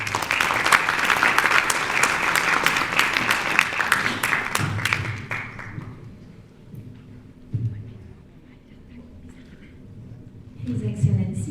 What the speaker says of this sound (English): A big applause for Nasreen.